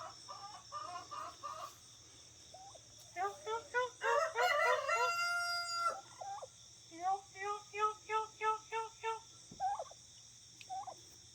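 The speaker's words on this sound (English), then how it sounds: "Some big old birds there." Homestead chickens and a rooster: rhythmic clucking bursts come in short repeated runs, with a loud drawn-out crow in the middle, all fairly close with no talking.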